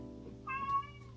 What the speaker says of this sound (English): Oh, that's my cat! I don't know if you heard.